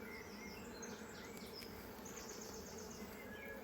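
Honey bees buzz at an open beehive during an inspection, a soft, steady drone with occasional higher whines of individual bees close by.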